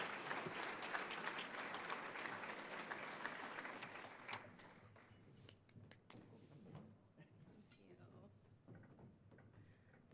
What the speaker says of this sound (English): Will you join me in giving Colleen a round warm of applause this morning